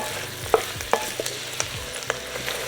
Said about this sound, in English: And now we're gonna add our mushrooms. I'm gonna let these cook down.